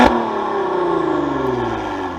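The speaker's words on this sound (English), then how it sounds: "Now, while I'm revving up the motor and wasting the gas," A 2021 Maserati Ghibli S Granlusso revs hard while parked, its engine and exhaust roaring loudly in one sustained pull that slowly drops in pitch, with no talking over it.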